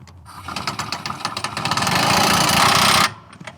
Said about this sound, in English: you can run them down pretty good with a decent air wrench